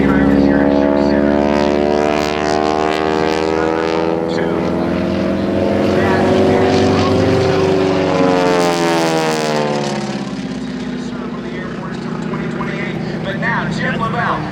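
A T-6 Texan propeller airplane at an air show droops past at show center, a loud droning engine with shifting pitch that swells and recedes, while someone talks over it.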